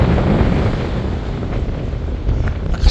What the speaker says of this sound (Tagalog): Lakas ng hangin mga kaabos.